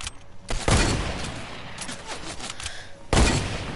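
Gunfire in a shooting video game, two sharp loud bursts of shots about two and a half seconds apart with a rattling volley between them.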